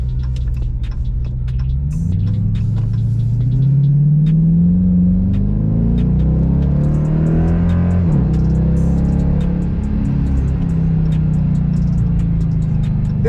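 A 2021 Dodge Charger R/T with a 5.7 V8, heard from inside while driving, a deep steady rumble that rises and falls as the engine revs through gears, with no voices over it.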